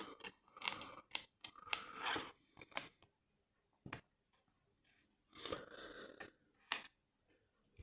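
Nail scissors snip plastic model kit parts from the sprue for a 1:72 Hawker P.1127, giving close, crisp clusters of cutting snips and clicks separated by short quiet pauses.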